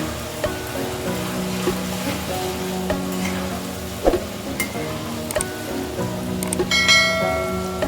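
Grated potatoes fry in hot oil with a soft, continuous sizzle, while a utensil stirs them in occasional scraping and clinking strokes, heard close and alone.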